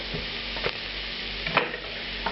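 Whole chilies fry in a smoking hot pan, a soft steady sizzle broken by a few brief crackling pops and stirring scrapes.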